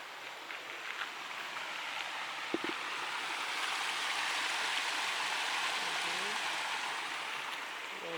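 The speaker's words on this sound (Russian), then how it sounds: "Вот водопадики." Small waterfalls rush steadily in a stream, a continuous close splashing wash with no talking.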